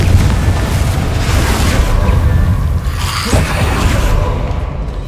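A Confringo fire spell in Hogwarts Legacy bursts with a heavy, rumbling explosive boom that stays loud and dense before easing off toward the end.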